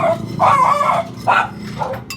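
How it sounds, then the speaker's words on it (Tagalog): A dog barks several times in close succession, loud and near, with short yapping bursts and a faint whimpering edge, outside a small neighborhood sari-sari store. "Ingay ng aso."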